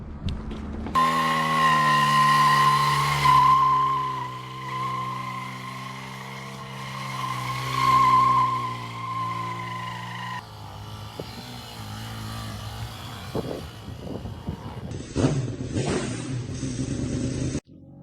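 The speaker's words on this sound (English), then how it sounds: "the motorcycle runs, starts up, and does burnout" A Benelli BN 125 motorcycle engine revs hard and steadily with a high whining tone during a burnout, then drops to rougher sputtering and scrabbling noise, loud and close.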